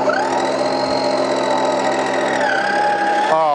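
Petrol lawn mower converted to EGO battery power, cutting grass with a steady, loud whine from its electric drive and blade, a constant mechanical hum that shifts pitch slightly near the end.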